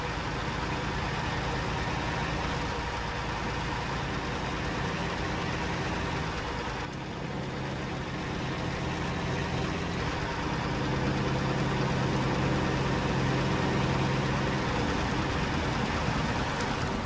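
A heavy recovery truck's engine works steadily through a drowned heavy truck recovery, a continuous loud low rumble that swells slightly in its second half, with no talk over it.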